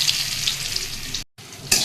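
Spices and chilli crackle and sizzle loudly in hot oil for a greens curry, a dense close hiss that cuts out for a moment and then returns with a sharp burst.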